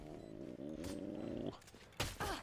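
A low, sustained growl from a dog creature ability in the shooter Valorant rumbles for about a second and a half, followed by brief sharp game noises.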